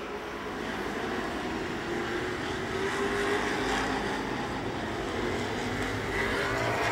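Super stock race cars roar around an oval track, a continuous loud engine drone that swells and fades slightly as cars pass.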